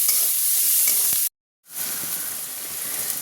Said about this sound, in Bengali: এবার পেঁয়াজ কুচোনাটাকে ভালোভাবে ভেজে নেব।